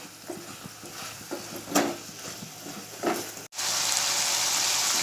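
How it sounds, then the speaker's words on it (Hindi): Prawns and onion fry in oil for a Konkani prawn masala, giving a soft sizzle broken by stirring scrapes, then a steadier, louder hiss near the end. "प्याज और झींगे के साथ तेल में भूनेंगे थोड़ा नरम होने तक"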